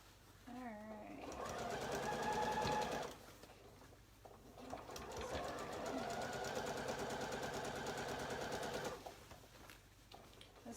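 Sewing machine stitching a waistband during a sew-along, running in two long steady bursts of rapid mechanical whirring with a short pause between, close up, with faint background voices at the start.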